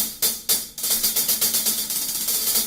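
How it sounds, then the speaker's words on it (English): Dark hi-hat cymbals, 14-inch Byzance Jazz on top, played alone in a steady pattern of crisp, rapid strikes, with a few opening hits and then even repeated chicks, close and fairly loud. "I use a sand ride bottom on the bottom and Byzance Jazz Series hi-hat 14-inch bottom on the top"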